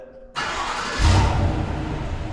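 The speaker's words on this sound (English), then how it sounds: "truck will start up. It'll run for 15 minutes and then it'll shut off" A 2025 Chevrolet Silverado Trail Boss starts by remote: after a quiet moment the engine catches abruptly, swells briefly as it revs, then settles into a loud, steady close-up idle.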